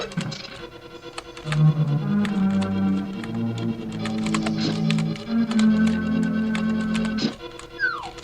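Computer keyboard keys tapped in quick irregular bursts during play of The Legend of Zelda: A Link to the Past, close and clear over steady game music, with a pause near the end.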